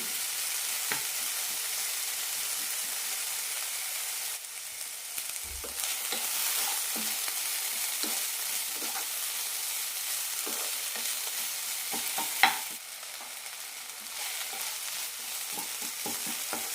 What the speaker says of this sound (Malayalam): നന്നായി വഴറ്റാം തക്കാളി അതുപോലെ അത്യാവശ്യം വെന്ത് കിട്ടണം